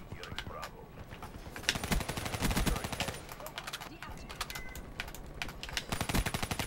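Rapid automatic gunfire from a Black Ops 3 match against a robot enemy, dense bursts of shots rattling almost continuously with brief lulls.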